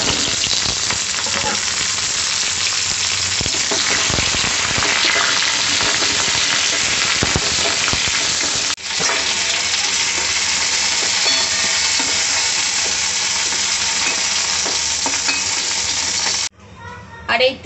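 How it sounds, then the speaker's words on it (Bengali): Pointed gourd pieces fry in hot mustard oil, a loud, steady close sizzle that runs on and on, with light stirring clinks and a brief shift partway through. "সর্ষের তেল গরম করে এর মধ্যে পটলগুলো দিয়ে লাল করে ভেজে তুলে নেব।"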